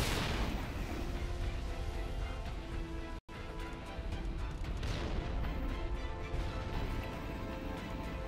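Heavy booming cannon fire and crashing explosions from a tank in a multiplayer shooter game, loud and continuous with a brief cutout midway, dense battle noise throughout.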